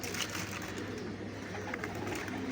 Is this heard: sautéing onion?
no